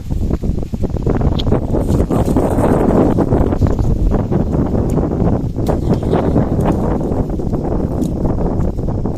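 Strong wind sweeps across an open field where a fire is being lit to roast chicken, heard as a constant, loud, low buffeting rumble against the microphone from start to finish, with no voices.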